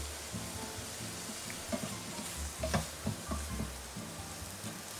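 Garlic frying in butter in a pan for a mushroom dish, a soft steady sizzle with occasional stirring scrapes and small pops, close but fairly quiet over faint background music.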